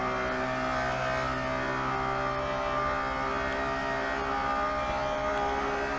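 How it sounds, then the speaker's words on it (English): A Porsche Carrera RSR 3.0 race car in Assetto Corsa screams steadily at its rev limiter at high speed, a loud, sustained, buzzing engine drone with no talk over it. "I'm basically bouncing off the rev limiter by now"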